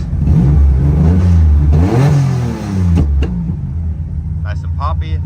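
A tuned Mitsubishi 3000GT engine revs hard, climbing and falling in two loud pulls, then settles into a rough, lumpy idle with a few sharp pops near the end.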